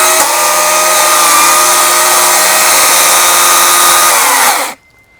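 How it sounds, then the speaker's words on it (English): A chainsaw cutting down a tree, running at a steady high-pitched whine for almost five seconds, loud and close, then cutting off abruptly into quiet. "Let me get the chainsaw."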